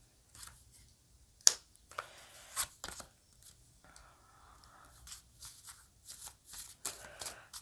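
Tarot cards shuffled by hand in quick riffling bursts with sharp snaps, close and fairly quiet, no talking.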